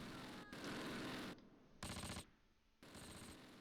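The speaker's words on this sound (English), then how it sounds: "we'll let the machine guns open up" Machine guns in Close Combat fire in long, loud sustained bursts, broken by short pauses and then resuming, with the fire close and harsh.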